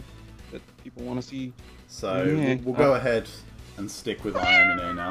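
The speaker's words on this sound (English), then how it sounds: "That's my cat." A house cat meows several times, close by, mixed in with someone talking over it.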